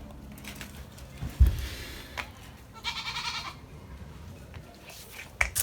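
A goat bleats on a farm among other livestock, a few short bleats rising above a steady outdoor background, with one louder call near the middle.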